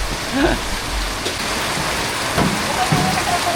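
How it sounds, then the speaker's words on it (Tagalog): Dense, steady hiss of heavy rain pours down throughout in Botolan, Zambales, with faint voices and scattered thuds underneath. "Lakas talaga ng ulan."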